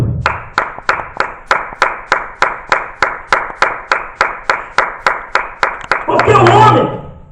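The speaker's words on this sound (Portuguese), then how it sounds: "Uma salva de palmas para Jesus Cristo." A church congregation at a sermon claps in a steady, even rhythm of about twenty crisp beats, closing in a brief, fuller swell of sound.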